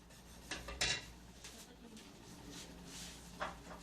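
Metal utensil clinks and scrapes against a cooking pot while salt and pepper are mixed, a few quiet clatters and stirring rubs spread across a few seconds in a kitchen.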